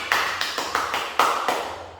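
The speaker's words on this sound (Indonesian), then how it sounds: "Berikan tepuk tangan terlebih dahulu." A handful of sharp, separate hand claps from schoolchildren in a multigrade classroom, close and fairly loud, spaced unevenly over a couple of seconds with no talking.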